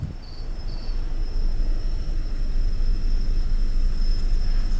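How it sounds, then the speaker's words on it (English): Cicadas on a levada walk near Funchal toward Camara de Lobos in Madeira give a thin, steady high-pitched whine that runs throughout, over a constant rush of breeze and low outdoor rumble. "A little breeze picking up. Sound of cicadas."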